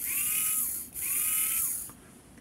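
A tiny HO slot car electric motor whines at high pitch, spins down unevenly with a falling tone, then revs and winds down again; close and fairly quiet.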